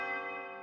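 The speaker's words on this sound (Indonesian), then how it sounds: "setelah bunyi lonceng ke-12" A single struck castle clock bell rings out cleanly, its bright metallic overtones sustaining and slowly fading, heard alone with nothing else around it.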